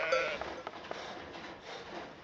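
Faint sheep bleats from a sheep farm in the trading strategy game Let Them Trade, brief and soft against a quiet background bed, with no speech.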